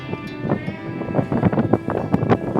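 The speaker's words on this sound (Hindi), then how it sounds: "ये बहुत तगड़ी हवा चल रही है, बहुत तगड़ी हवा" Strong wind gusts across the top of Anjanadri Hill in Hampi, near a temple. It buffets the microphone with a close, rumbling roar that surges and fades in rapid bursts.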